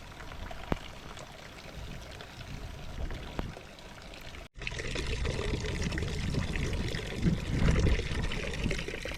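Water scooped and poured outdoors in a rural hill-tribe village setting, a continuous splashing pour that grows fuller and louder after a brief break midway.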